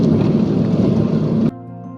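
Heavy monsoon rain roars steadily against a car on a road trip toward Kudremukh, a dense loud wash of noise that cuts off abruptly near the end, leaving a low engine-like drone.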